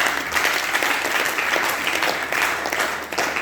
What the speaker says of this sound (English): Once again, a round of applause to our chairman.